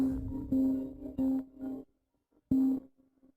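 A telephone rings in a dramatic scene: short, tonal electronic ring bursts repeat in an uneven pattern, clear and fairly close, with no voices.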